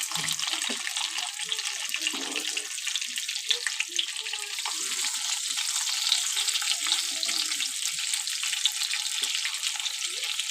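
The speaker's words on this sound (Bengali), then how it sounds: "আমি অল্প জিরে ফোড়ন দিয়ে দিলাম জিরেটা একটু হয়ে আসবে তখন আমি কেটে রেখেছি আলু সেটা দিয়ে দেবো" Cumin tempering sizzles in hot oil before cut potatoes go in, a bright, constant crackling hiss with scattered pops and small kitchen clatters close by, without speech.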